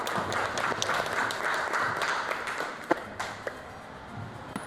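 A classroom gives applause, faint scattered clapping from a small group of students that continues for several seconds with a few sharper claps standing out near the end.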